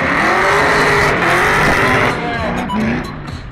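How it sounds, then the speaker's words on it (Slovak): A Chevrolet Camaro drifts at the King of Europe 2011 drift event: tires squeal loudly over a roaring engine close by, easing off toward the end as voices chatter in the background. "Vzhľadom na rozmer pneumatík je to drahý drift toto."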